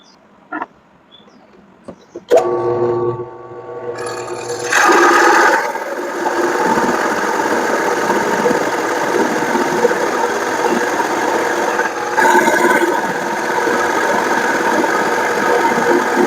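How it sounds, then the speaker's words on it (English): A 2-inch Forstner bit boring holes in hardwood: a machine motor starts up after a couple of seconds and then holds a steady, loud whirring drone through the end, with no talking. "I used a 2-inch Forstner bit to cut these out."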